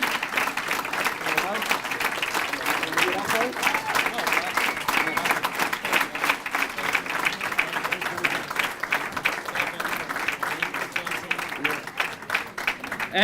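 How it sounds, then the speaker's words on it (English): A large crowd at a Boys & Girls Club charity gala gives a sustained round of applause, dense rapid clapping holding steady for over ten seconds, with voices mixed into the ovation. "a whole round of applause"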